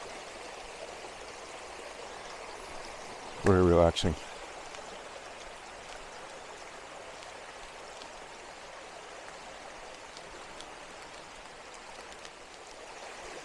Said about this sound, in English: radio's going, just a nice little brook.